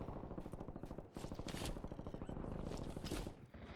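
Rapid automatic gunfire in a French multiplayer shooter, a dense rattle of quick repeated shots with a short pause around the one-second mark, fairly close and continuous, with no voices over it.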